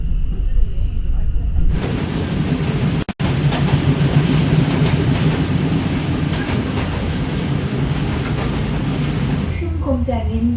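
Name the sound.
pink sightseeing train running on rails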